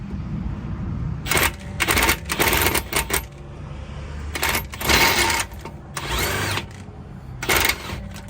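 Impact driver hammering on a suspension bolt of a Toyota Camry during a driver-side lower control arm replacement, firing in several short rattling bursts separated by pauses, loud and close.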